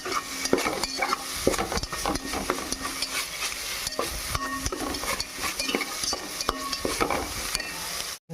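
Curry leaves cooking in oil in a pan for curry leaf rice sizzle steadily while a spoon stirs and scrapes them, with repeated clinks of utensil against metal throughout.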